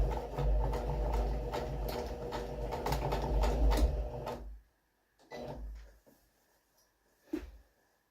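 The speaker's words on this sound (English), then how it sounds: "what I am doing is stitching off the hem, the double hem at the top" A sewing machine stitches a double hem on a homemade fabric storage caddy in rapid, close bursts for about four seconds, then falls to quiet with a few short stitching spurts and soft handling clicks.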